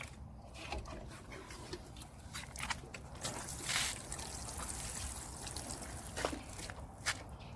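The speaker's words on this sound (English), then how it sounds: "So I'm just going to water them now." Cornflower seedlings in a patio container are watered, a soft steady pour and trickle of water running through the whole stretch, fairly faint and close, with no one talking.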